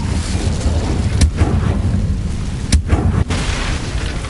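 Incendio fire spell cast in the video game Hogwarts Legacy: a dense, loud roaring burst that holds steady throughout, with sharp booming pops near the start, middle and end.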